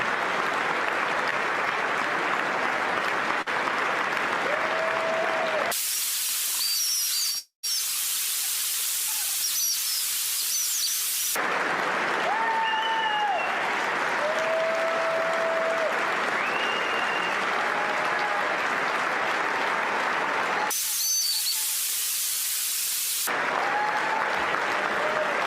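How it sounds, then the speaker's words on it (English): Audience applause rising in several bursts, with broadband clapping filling the clip, separated by brief quieter gaps and a sharp dropout, plus faint tonal whistles over the crowd noise. "they are applauding"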